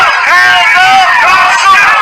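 Crowd of protesters at an Atlanta protest near a burning Wendy's, heard as a steady, dense babble of many voices with shouting and calls rising and falling throughout.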